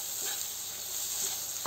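Mushroom sandwich stuffing seasoned with salt, pepper and garam masala, stirred in a sizzling pan, giving a steady frying hiss with a couple of soft scraping strokes.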